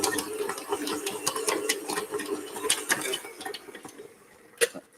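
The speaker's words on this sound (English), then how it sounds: "my KitchenAid is a bit old and it gets a bit jumpy" An old KitchenAid stand mixer kneads cinnamon bun dough with a steady motor whir, rattling and knocking unevenly as the bowl jumps, while metal clinks come through at close range and one sharp knock lands near the end.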